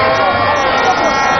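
A Ghanaian political rally crowd roars with steady, dense shouting and cheering, loud and close, filling the brief moment without a break.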